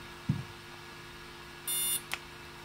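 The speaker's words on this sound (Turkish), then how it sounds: "Bir kez bip sesini duyana kadar." A DJI Spark drone gives a short electronic beep while its battery button is held during remote binding, a single clear tone after a soft click, followed by a faint tick.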